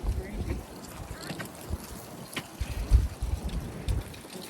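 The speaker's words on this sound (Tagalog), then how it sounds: "Sobrang mahangin." Strong wind blowing outdoors, buffeting the microphone in uneven gusts and rumbles, with people talking under the noise.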